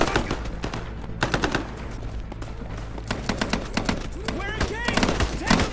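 Rapid bursts of automatic gunfire and single shots from the military shooter game Operation Harsh Doorstop, loud and close, with a player's voice in between.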